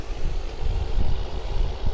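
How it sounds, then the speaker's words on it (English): Steady low rumbling wind buffets the microphone, with a constant airy background hum and no voices. "Sorry about the wind and the fans"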